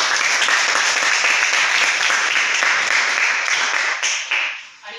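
A seminar audience gives a long burst of loud, dense applause that holds steady for several seconds before thinning out and fading at the end.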